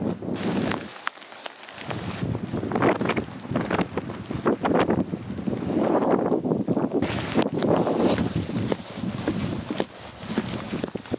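Strong wind buffets the microphone in heavy, uneven gusts at a lake in Tiilikkajärvi National Park, Finland, loud and roaring throughout, with no talking.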